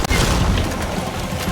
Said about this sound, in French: c'est pas des grenades ça, c'est du fumigène